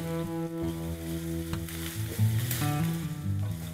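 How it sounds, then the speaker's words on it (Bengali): Onions frying in a kadai pan, steady sizzling with occasional stirring scrapes and a faint tonal hum in the background; no voices. "পেঁয়াজটাকে ফ্রাই করব, একটু সময় নিয়ে ফ্রাই করতে হবে।"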